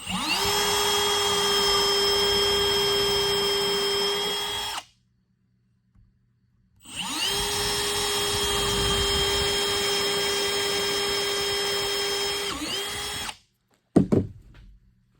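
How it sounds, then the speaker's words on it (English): A power drill countersinks common wood screws into a crosscut sled, running in two long steady whines of about five and six seconds separated by a pause, with a brief clatter near the end; no talking. "So now I am countersinking these screws."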